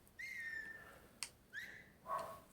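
A player character in Mafia 3 gives a few short whistled notes in stealth mode, faint and spaced apart, with a brief click between them and no talk.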